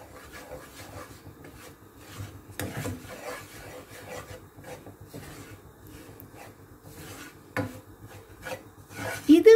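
Beaten rice flakes (aval) being stirred and roasted in a pan for snowball sweets give a continuous dry rasping, scraping rustle with a few louder scrapes toward the end, close up and with no talk.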